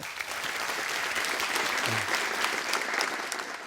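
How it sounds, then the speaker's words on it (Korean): Audience at a crowdfunding competition event applauding a presenter, a dense, even wash of clapping that holds steady for several seconds at moderate loudness. "큰 박수 부탁드릴게요."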